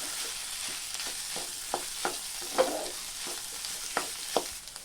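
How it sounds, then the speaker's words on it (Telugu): Boiled potato being stirred and mixed in a pan, with a steady soft sizzle under a series of light, irregular scraping strokes. "ఈ ఉల్లగడ్డను బాగా మిక్స్ చేసుకోవాలి"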